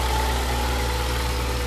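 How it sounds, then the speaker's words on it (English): A 2009 Ford Escape engine idles steadily, a low, even hum with no change in pitch and no voices over it. "This engine runs great."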